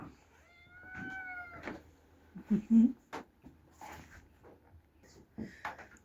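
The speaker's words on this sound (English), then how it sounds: "Hi, kitty, kitty. Well, hi, kitty. There's 2 of you. Cute kitty cats." Two cats in an old prairie homestead building, giving several short, close meows scattered through the clip amid quiet room sounds, with no talking.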